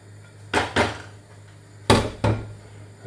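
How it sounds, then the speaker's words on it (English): Diced lamb tipped back into a pot for a Lancashire hotpot and stirred, four dull knocks and scrapes of a spoon against the pot in two close pairs, with no talk. "now I'm going to tip back the diced lamb back into there"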